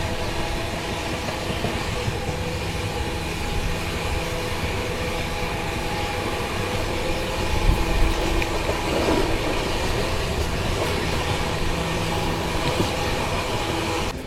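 A passenger train travels slowly on the line between Tarikere and Birur in Karnataka. A loud, continuous rumble of wheels and carriages fills the whole stretch, heard close from on board.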